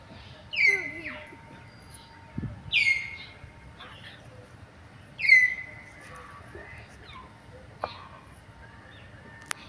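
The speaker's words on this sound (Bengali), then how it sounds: "কত সুন্দর সুন্দর পাখির আওয়াজ" Birds call and chirp in a botanical garden, several bright descending song phrases and short whistles repeating at intervals, fairly close and clear over a quiet background with soft low rumble.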